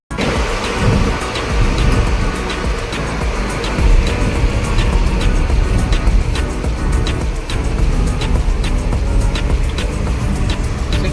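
A vehicle being driven at the Shrigonda village fair (yatra) gives a loud, steady rumble with regular ticking clicks over continuous crowd and fairground noise.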